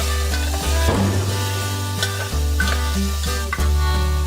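Onions fried in oil with whole garam masala, cardamom and cinnamon, giving a steady, close sizzle with a spoon scraping and stirring the pan at intervals.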